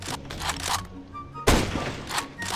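Gunshots in Counter-Strike: Global Offensive ring out as a series of sharp cracks, with a louder close shot in the middle among several quieter bursts, all against busy game noise.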